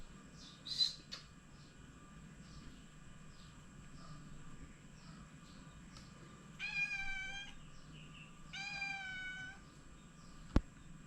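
Cats meow in two clear, drawn-out calls a couple of seconds apart against a quiet background, preceded by a short faint sound and ending with a sharp click.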